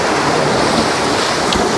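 Sea waves roll onto a Crimean beach in a loud, dense wash of surf and rushing water, mixed with heavy wind buffeting the microphone, and no voices.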